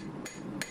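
Two sharp hammer blows strike a hunting knife blade while its edge bevels are being forged, ringing out clearly and close over a low, steady workshop background with no talk.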